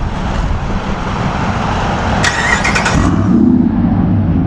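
A truck engine with a faulty relay switch starts with a brief squeal and settles into a steady, loud idle close by, with no talking.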